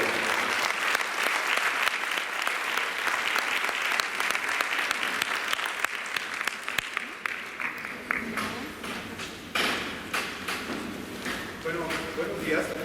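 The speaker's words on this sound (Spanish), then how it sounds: "Le damos un aplauso" A crowd claps loudly and steadily for a doctor about to speak at a hearing clinic talk, the applause dense at first and thinning into scattered claps toward the end.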